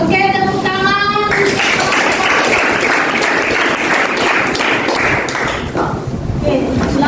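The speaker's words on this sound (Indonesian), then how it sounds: "Oke, tepuk tangan." A classroom of students claps together in a dense, sustained burst that fades toward the end, with some voices mixed in over the clapping.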